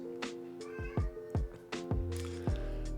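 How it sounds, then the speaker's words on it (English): An indoor house cat gives a rapid series of about six loud, short meows, close and insistent, with faint background sound beneath. "Apologies if you hear my cat in the background."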